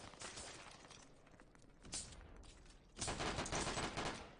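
Video game gunfire in SAMP (San Andreas Multiplayer): faint bursts of rapid shots, a short volley near the start, another around two seconds, and a longer sustained burst toward the end, quiet overall with no voices.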